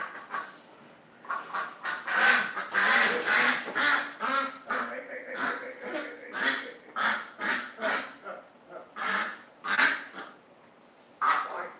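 A duck calls in a series of loud, close quacks and honking cries, repeated in bursts throughout with short gaps between.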